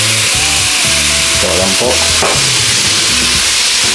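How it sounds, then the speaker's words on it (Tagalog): Loud, constant sizzling of marinated pork frying in hot cooking oil, a dense hiss filling the whole stretch while a voice speaks over it. "mainit na po ang ating mantika. So drop na po natin ang ating minarinate na pork"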